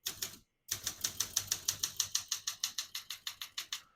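Typing on a 1969 Olympia SM9 portable typewriter: a steady run of crisp, close mechanical key strikes at an even rhythm after one short pause, with no voices.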